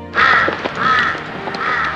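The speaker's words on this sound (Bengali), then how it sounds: "কিসব বিভিন্ন রকম পাখি ডাকছে।" Crows caw repeatedly in a deodar forest in the Doodhpathri valley of Kashmir, three loud harsh calls spaced evenly and close by, with a faint river murmur underneath.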